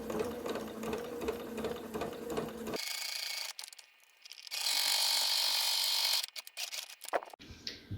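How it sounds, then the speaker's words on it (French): Sewing machine running a straight stitch to close the bottom of a summer tote bag, with a mechanical whir and ratcheting clatter in several bursts of different lengths and brief pauses between them, close and fairly loud. "un point droit en bas pour refermer tout ça"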